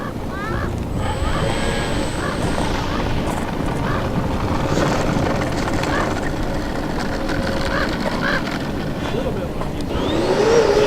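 A FlightLine F4U-1D Corsair "Bubble Top" electric RC model plane flying overhead, a steady whirring motor drone that swells near the end, set against wind and outdoor ambience with voices talking.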